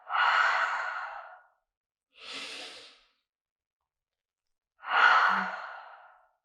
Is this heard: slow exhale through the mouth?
yes